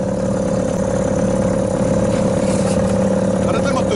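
A small boat's motor runs steadily and loud up close with a constant droning hum and some clatter, while people talk over it.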